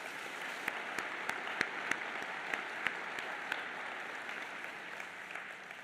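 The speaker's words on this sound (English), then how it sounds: "Please, another round of applause." An audience at the 80th anniversary D-Day commemoration ceremony gives sustained applause, a dense even patter of many hands with a few sharper claps standing out.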